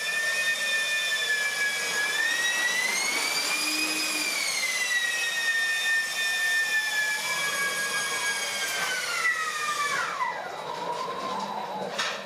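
Electric ducted fans powering a one-ball balancing bike whine loudly and steadily, their pitch rising and falling as the rider leans to steer, then dropping sharply near the end.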